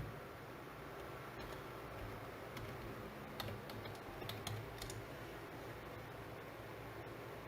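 Typing on a computer keyboard, faint scattered key taps in short clusters under a constant background hiss.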